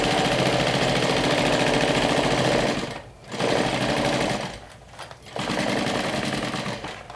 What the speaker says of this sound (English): let's stitch this with a 3/8 of an inch seam